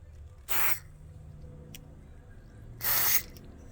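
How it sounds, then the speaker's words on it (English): Two short bursts of DeoxIT contact cleaner sprayed into an old volume potentiometer, each a sharp, close hiss of about a quarter second, separated by a couple of seconds of quiet room tone. "Just spray a little bit of deoxit in there."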